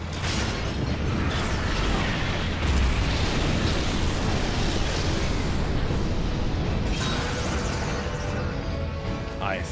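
A weapon fires in a Final Fantasy XIV battle, giving a sustained, roaring explosive rumble that fills the whole stretch with dense, loud noise and a brief bright burst near the end.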